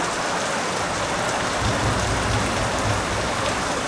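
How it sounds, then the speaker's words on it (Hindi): Heavy rain pours down steadily, a dense, loud hiss of drops drumming on surfaces with no pauses. "काफ़ी दबा के बारिश हो रही है, ये देख सकते हो।"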